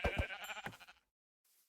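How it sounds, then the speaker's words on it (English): A sheep bleats in Minecraft, one short wavering game-sound bleat heard up close, followed by a brief silence and a faint start of another noise. "Yeah, there's a sheep."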